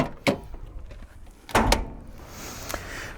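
Bonnet of a 1989 Toyota Land Cruiser HJ60 being opened, with a couple of sharp metallic latch clunks followed by a louder thud and creak as the hood lifts, close and clear with no talking.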